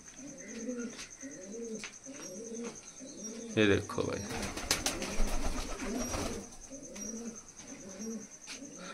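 Pigeons of the Malwai breed coo in repeated low rolling phrases close by, with someone talking over them and a burst of wing flapping and scuffling midway.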